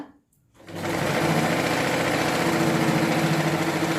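Sewing machine stitching a seam on a kameez, starting after a brief pause and then running in a continuous fast whirring drone, close up with no voices.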